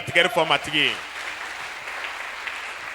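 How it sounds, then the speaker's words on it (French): A church congregation applauds at a sermon: a brief burst of a voice gives way to steady, hissing applause that fills the rest of the moment at moderate loudness. "Quelqu'un va acclamer le Seigneur."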